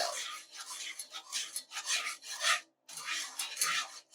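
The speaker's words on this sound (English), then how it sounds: "We whisk it all together now." A whisk scrapes rhythmically through a dark, caramel-like candied yam sauce in a pot on the stove, making a run of close, brisk rasping strokes broken by one short pause.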